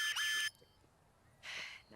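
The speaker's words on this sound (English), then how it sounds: "It's a rape alarm. It's insanely loud." A personal rape alarm goes off in a film, two loud, piercing shrill bursts with a quieter gap between them, near and harsh.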